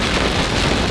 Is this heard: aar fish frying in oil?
no